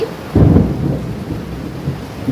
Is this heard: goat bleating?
no